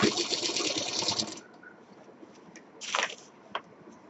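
A sewing machine runs in a close, fast continuous whir while double-stitching the joint of a handmade cloth bag, then falls quiet apart from a few soft clicks and one short buzzing burst.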